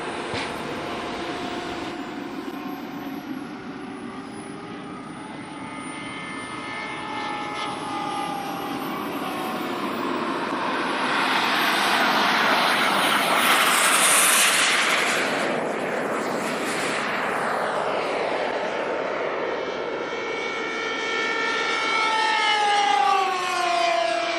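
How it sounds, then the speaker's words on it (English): A fast radio-controlled jet at a model jet meet roars past with a loud turbine whine, its pitch rising and falling as it sweeps overhead and away over about twenty seconds. "So that's what I'd describe as a fast radio-controlled jet."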